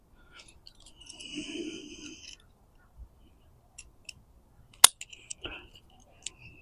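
Drip irrigation tubing being snipped with a cutter, a few sharp close clicks and snaps scattered among quiet gaps, with brief bits of movement and voice nearby.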